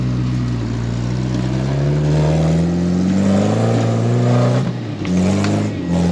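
An off-road rig crawls over rocks, its engine revving loudly and steadily up and down with strained, rising pitch, close by, with no voices.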